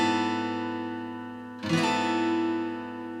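A single chord is strummed on an acoustic guitar while the previous notes still ring, sounding bright and close, then sustaining and slowly fading, with no talk over it.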